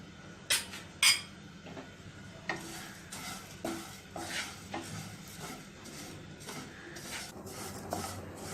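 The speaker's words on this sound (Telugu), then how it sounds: "నెయ్యి వేడైన తర్వాత సేమియాను వేసుకొని వేయించుకోవాలి." Vermicelli is roasted in ghee in a pan while a spoon stirs and scrapes it in a soft, irregular rhythm, with two sharper metallic clinks near the start, close and fairly quiet.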